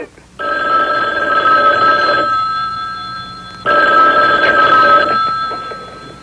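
An old-fashioned telephone bell rings in a film scene, two long bursts of loud, steady ringing separated by a short pause, heard alone without talk.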